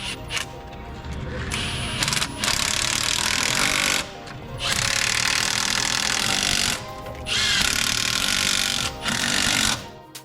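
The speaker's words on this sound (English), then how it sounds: "Use a 13mm socket to tighten down the 4 bolts." A socket wrench tightens the four bolts on a Kenworth W900 AC compressor, a 2005 truck, giving several bursts of loud, close rattling tool noise separated by short pauses.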